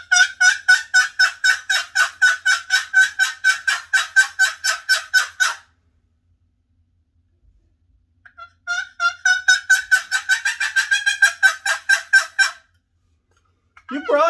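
A turkey box call makes a rapid string of high, nasal yelps repeating in two long bursts separated by a pause, loud and alone.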